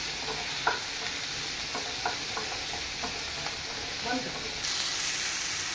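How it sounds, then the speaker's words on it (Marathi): Onion and tomato masala frying in a pan, a steady hiss broken by a few light scrapes and stirs at close range, with a brief bit of speech-like sound in the background. "कांदो आनी टोमाटो भाजपाचे चालू आहा"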